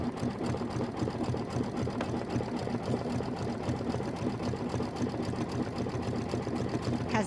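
A sewing machine runs steadily, stitching a wide satin stitch in peach thread on a quilt, its rapid needle chatter continuous and close throughout with no pauses.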